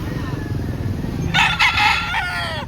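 A rooster crows loudly in the middle of the clip over a steady background of chicken market chatter and low noise, with faint clucking around it; in Lipa, Batangas.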